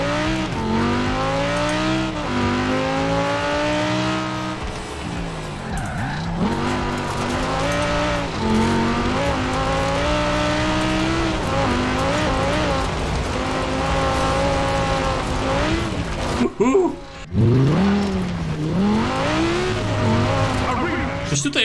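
An Audi R8 races in Forza Horizon 4, its engine roaring and revving loud and close with shifting pitch, broken by a brief tire squeal near the end.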